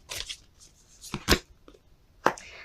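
Tarot cards being shuffled by hand, heard as three short, crisp riffling bursts separated by quiet gaps, close and fairly soft.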